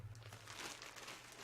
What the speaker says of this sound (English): Again, plastic bag.